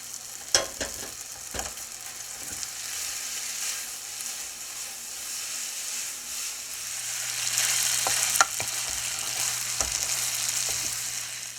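Thin spaghetti being stirred into spaghetti squash, a soft sizzling hiss that grows louder later, with occasional clicks and scrapes of the utensil.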